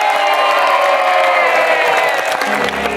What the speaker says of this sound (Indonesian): Tepuk tangannya lebih keras dong dari itu dong.